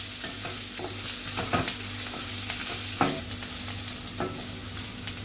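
Green chilli pieces fry in a pan with onion for an aubergine and potato dish, giving a steady soft sizzle broken by occasional scraping stirs of a spatula, close and fairly quiet, with no talking.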